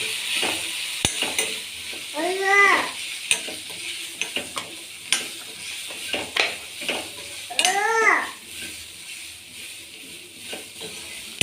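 Vegetables being mixed with masala and coriander powder in a pan for a cluster bean and potato dish, with repeated spatula scrapes and clinks over a light sizzle and two short squeaky bursts.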